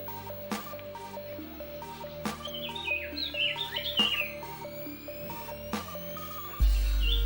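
A sirtu songbird gives a quick run of high chirps and twitters in the middle, fairly near, among sparse clicks and drip-like taps.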